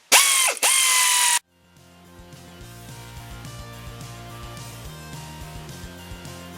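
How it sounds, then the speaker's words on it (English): Ratchet wrench tightening the pressure plate bolts on a Massey Ferguson 230 tractor clutch, heard as a close, steady mechanical clicking and grinding that runs on after a loud burst at the start. "we can now tighten up the bolts on the pressure plate"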